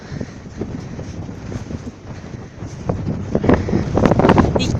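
Cold wind gusts outdoors, buffeting the microphone in uneven rushes that grow stronger toward the end, loud and close with no speech.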